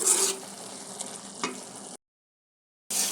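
Taro sizzles and crackles steadily in hot oil in a wok with occasional stirring scrapes, cuts out briefly to silence, then resumes.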